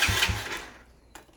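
A 125cc cafe racer motorcycle with a stock carburettor is cranked in an attempt to start it, with a couple of loud low engine chugs that fade out and then a brief click near the end.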